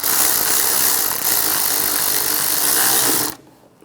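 A power ratchet whirs steadily for about three seconds while tightening a bolt on the intake bracket of a 1996–2002 Toyota 4Runner during an intake gasket replacement, then cuts off abruptly, loud and close.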